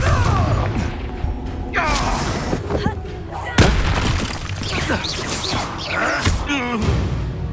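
A Confringo blasting spell in Hogwarts Legacy explodes with booming, crashing bursts amid dense game sound effects and music, loud and continuous throughout the stretch.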